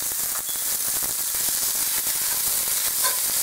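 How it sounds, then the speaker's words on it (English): Finely sliced small onion sizzling and frying in melted butter in a cast iron pan, a steady dense crackling hiss with brief stirring, close and loud, no voices. "then I'm going to throw in the onions"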